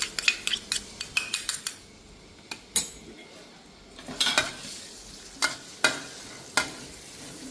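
Garlic and chili are stir-fried in oil over medium heat, a soft sizzle under sharp metallic clinks and scrapes of a utensil striking the pan in irregular bursts, close by.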